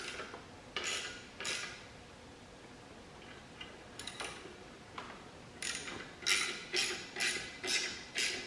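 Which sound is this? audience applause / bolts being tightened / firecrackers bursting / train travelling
bolts being tightened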